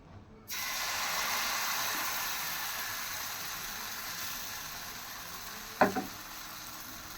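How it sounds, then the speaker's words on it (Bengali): Flour batter sizzling steadily in hot oil on a tawa at home, a continuous bright frying hiss that starts abruptly after a short silence, with a brief clatter near the end. "আর এই তেলটা গরম করেই আমি আটা গোলানোটা তাওয়াতে দেবো"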